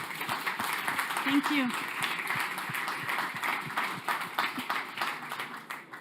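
Audience applause for a speaker at Connect Day 2022, a GreenTech event, with a sustained patter of clapping from the room as someone briefly speaks over it.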